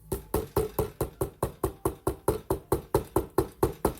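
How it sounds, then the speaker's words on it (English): Rapid, even knocking on wood, about two sharp raps per second repeated steadily and close up, with no voices. "knock on wood"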